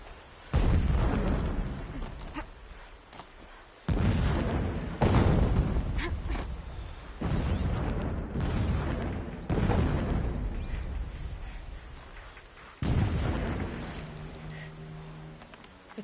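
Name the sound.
explosions in the distance in Horizon Zero Dawn Remastered video game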